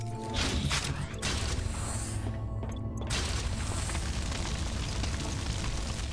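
Proximity mines blowing up in the sci-fi shooter Void Bastards: several heavy booming blasts with crackling debris, the bursts coming close together and running into a sustained rumbling roar.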